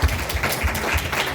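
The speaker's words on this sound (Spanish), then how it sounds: "So I think we should give an aplauso for sus pastores" A church congregation applauding its pastors: a dense, loud wash of clapping from many hands, short and continuous, with a faint murmur of voices mixed in.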